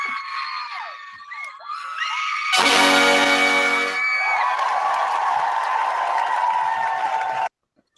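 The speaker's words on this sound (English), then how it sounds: "Please, no more applause." Crowd cheering, whooping and clapping loudly and close, with a brief bright burst of music partway through, then cutting off abruptly near the end.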